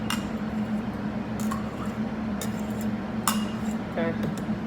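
A spoon scrapes and clinks against a bowl while zucchini mixture is scooped in, giving a few sparse, short metallic taps over a steady low hum and room noise.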